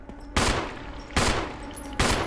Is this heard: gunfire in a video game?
yes